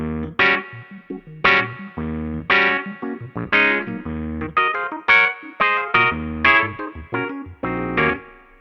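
Wah effect on a Nord Grand 2 88-key stage keyboard sweeps through a rhythmic electric-piano-style phrase, each chord or note swelling and filtering in a steady pulsing pattern, close and alone with light distortion and reverb.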